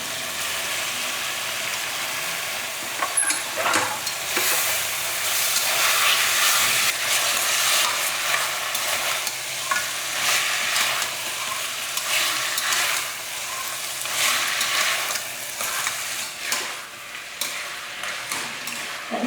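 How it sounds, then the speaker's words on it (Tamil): Mutton pieces with bone and flesh sautéing in a pan, giving a steady, close sizzle and crackle with occasional stirring scrapes, continuous and fairly loud, with no talking. "மட்டன் வந்து இந்த அளவுக்கு நல்லா வதக்கியாச்சு"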